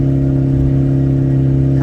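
A 2003 Toyota Prius engine runs with its catalytic converter stolen, giving a loud, raspy, unmuffled drone with a strong low hum. The tone holds steady and close, with no talk over it.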